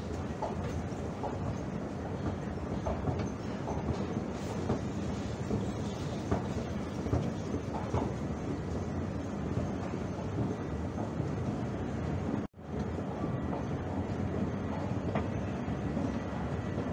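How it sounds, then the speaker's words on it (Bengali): An SJ intercity train running on rails gives a steady, close rumble with faint rhythmic clatter, briefly cut near the end before the rumble resumes, with no voices. "এসজে ট্রেন হলো এক সিটি থেকে অন্য সিটি যাওয়ার জন্য ও খুব দ্রুততম ট্রেন"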